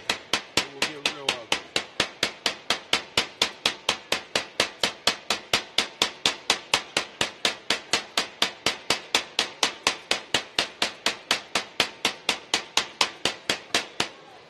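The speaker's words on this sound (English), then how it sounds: "I'm going to move to the other end of the hammer and start moving it now that I got some motion" A hammer strikes sheet metal being shaped into a curved belly, in fast, even, sharp blows that repeat steadily and loudly throughout, close by with no talking.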